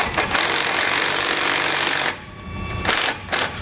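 A 9/16 socket and wrench turn a bolt on a suspension plate while Firestone air helper springs go onto a 2013 Ford F-250. A close, dense ratcheting rasp runs for about two seconds, then shorter bursts follow.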